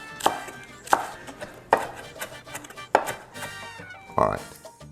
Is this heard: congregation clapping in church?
no